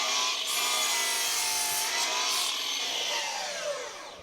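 A Milwaukee saw cuts through a 1975 timber wall joist, giving a loud, continuous rasping cut that holds steady for several seconds, close up and with no talk over it.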